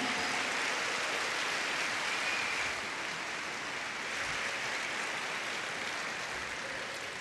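A church congregation applauds continuously, a dense steady wash of clapping that fills the room and stays loud, easing slightly in the second half, with no voices rising above it.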